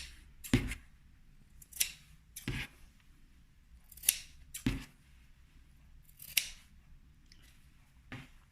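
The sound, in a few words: scissors cutting fabric corners off a pencil case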